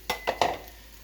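A spoon scrapes and stirs corned beef hash frying in butter in a pan, three quick scraping strokes over a steady low sizzle, close and clear with no talking.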